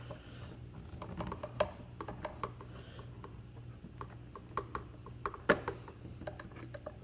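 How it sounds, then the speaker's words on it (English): A small screw is backed out of a Foxfire MBS flashlight housing, giving a string of light metallic clicks and ratcheting ticks at close range over a low steady hum, with no voices. "And that screw comes out right there"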